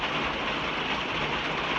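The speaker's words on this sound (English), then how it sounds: "you can hear the rain, huh?" Steady rain falls at a trail shelter on the Appalachian Trail at night, a dense, even wash of drops pattering on the roof and ground, close and continuous with no talk.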